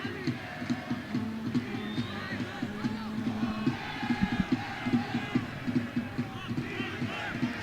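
A crowd of roughly 7,000 at a rain-dampened evening soccer match between the Richmond Kickers and RCD Espanyol roars and chants in the distance, a broad rumbling swell with rhythmic shouted surges, with some voices standing out.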